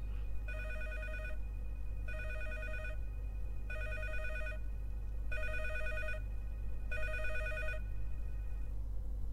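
Telephone ringing in the video game Geist: five evenly spaced electronic rings, each about a second long with short gaps, loud and clear over a steady low hum, with no talk.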